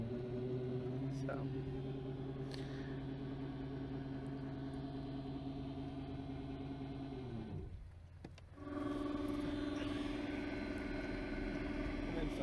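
2000 watt e-bike motor pushing a boat at low throttle, a steady electric whine and hum with a low rumble that dips briefly as the power cuts out, then resumes at the same level.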